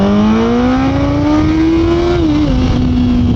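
A big motorcycle accelerates at partial throttle at a bike night, its engine note climbing steadily, dipping briefly at a shift, then pulling on, loud and close throughout.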